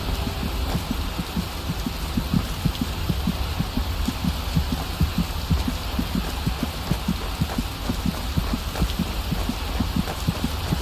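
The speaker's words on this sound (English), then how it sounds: "Why do I hear my heartbeat beating very loud?" A loud, rapid heartbeat thumps in a steady rhythm in the fantasy game Skyrim, pulsing under a constant wash of falling rain with no speech.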